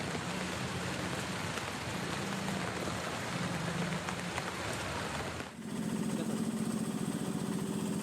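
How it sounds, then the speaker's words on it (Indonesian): Heavy rain pours down during flooding in Jakarta, a dense, steady hiss that fills the scene, with a low engine-like hum growing more noticeable toward the end. "Hujan mengguyur sejak siang hingga malam"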